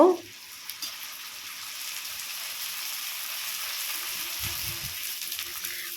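Phuchka puffs fry in hot oil in a home kitchen in a rural Sundarbans village, giving a continuous soft bubbling sizzle with a few light clinks and brief low knocks near the end.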